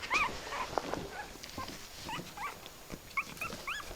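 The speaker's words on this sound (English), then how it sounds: "I just wanted to show you what happens when we open up the blanket. You can start to hear them now" Small puppies whimper and squeal in high, wavering cries, several overlapping in short bursts close by, with soft rustling underneath.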